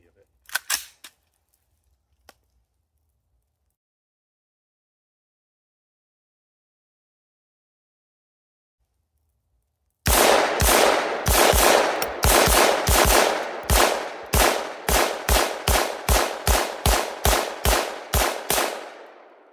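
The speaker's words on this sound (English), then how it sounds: "I'll put 20 rounds through it just for you guys to see" An AR-15 rifle with a polymer lower receiver fires a rapid string of about twenty loud, evenly spaced shots outdoors, after a long near-silent pause with a few faint clicks.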